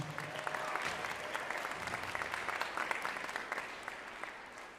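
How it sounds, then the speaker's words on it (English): Concert audience applause, a full, continuous wash of clapping from a large crowd with scattered sharper claps and faint cheering, moderately distant and steady until it tapers slightly at the end. "a huge, huge round of applause for all the Denison Torg and all the Denison people"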